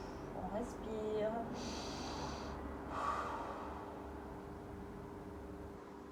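A person doing a Pilates exercise takes soft, close breaths in and out, with a couple of short audible inhales and exhales over a quiet room hum.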